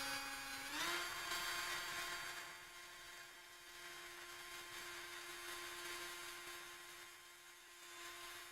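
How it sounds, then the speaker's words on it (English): A power drill drilling holes whirs up to speed and holds a steady high-pitched whine, running continuously and fairly faint. "Let's drill some holes."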